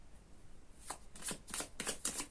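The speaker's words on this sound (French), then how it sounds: "je vais faire une petite recoupe avec mon Lenormand" Lenormand oracle cards are shuffled by hand in a few quick riffling bursts, close and fairly quiet, with no talking.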